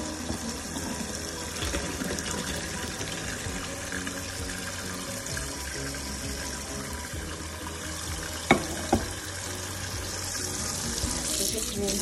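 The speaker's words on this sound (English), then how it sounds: "we need to rinse the macaroni with some cold water in order to stop the cooking process" Cold tap water running steadily over boiled macaroni in a kitchen sink, a continuous splashing rush that stays fairly faint, with two sharp knocks near the end.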